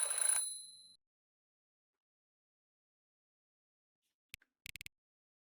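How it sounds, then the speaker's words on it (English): A phone rings in the horror video game The Black Whale: a brief bright ring at the start, then silence, followed by a few short clicks. "Phone's ringing."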